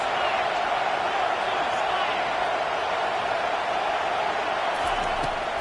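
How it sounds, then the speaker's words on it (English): Steady, dense roar of a large college football stadium crowd during an Alabama versus Oregon game, a continuous wall of cheering and noise throughout with no breaks. "This crowd bringing the energy and noise early."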